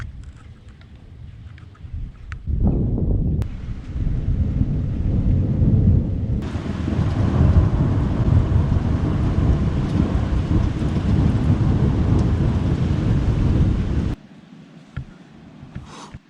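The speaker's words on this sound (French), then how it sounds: "Troisième orage." Thunderstorm with a loud rolling thunder crack followed by heavy, steady rain pouring down, dense and continuous for over ten seconds before easing to a quieter patter.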